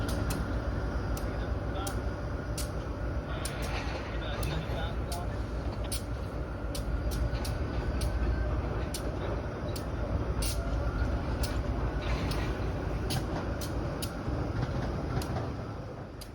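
GE B23-7 diesel locomotive, number 1980 built in 1980, moving a train on the Fore River Railroad; a low rumbling drone at a distance with repeated sharp clanks and squeaks over it.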